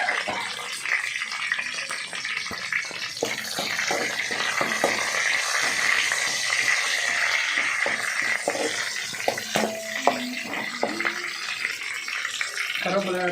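Mustard seeds and curry leaves crackle in hot coconut oil, a continuous hiss broken by scattered sharp pops and spits, while a voice talks over the frying.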